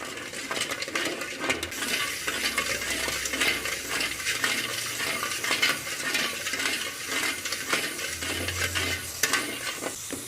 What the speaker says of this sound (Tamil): சர்க்கரை நல்லா கலந்து விட்டுக்கலாம்